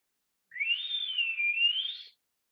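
One sustained, clear whistle of about a second and a half rises, wavers and rises again to call someone, nearby and alone against silence.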